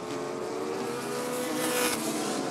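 Midget race cars at Rockford Speedway drone through the turns in a dense, continuous engine roar, several cars heard together from a distance, the sound swelling slightly as they pass.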